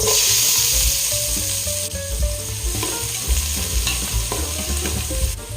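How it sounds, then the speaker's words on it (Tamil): Two large sliced onions fry in ghee for mutton biryani, giving a loud, steady close-up sizzle broken by irregular stirring clatters and scrapes, with no voices. "வெங்காயம் ரெண்டு பெரிய வெங்காயம் கட் பண்ணி வச்சுருக்கேன் இதை நான் சேர்த்துக்கிறேன்"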